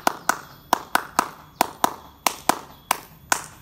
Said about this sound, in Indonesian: Marilah kita akhiri dengan tepuk HW untuk mengakhiri konten pada hari ini.